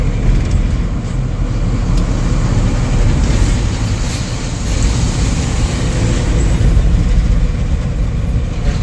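Dense roadway traffic with buses in a jam at night, a steady, loud rumble of engines and tyres close by that holds without break throughout, with no voices.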